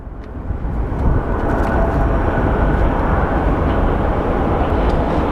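Dense, steady jet-engine roar from airliners lined up for departure at Phoenix Sky Harbor International Airport, loud and continuous broadband rumble without speech.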